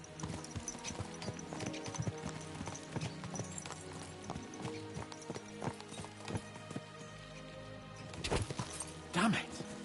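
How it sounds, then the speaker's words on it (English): Horses gallop in the medieval video game Kingdom Come: Deliverance II, hooves clip-clopping in a quick, uneven rhythm close by, with a brief whinny near the end and voices talking over the hoofbeats. "Let's really spur these horses on, eh?"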